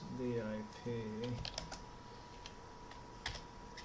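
Light, scattered keyboard clatter, as if a cat is stepping across a computer keyboard, follows a spoken word and then continues as faint irregular taps under quiet room noise.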